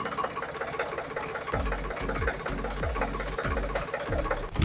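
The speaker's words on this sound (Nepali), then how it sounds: "वाह, यो इन्जिनको साउन्ड सुन्नु." A Ferrari engine runs with a deep, throbbing low rumble, pulsing in steady repeated surges after a quieter start, heard close with no talk.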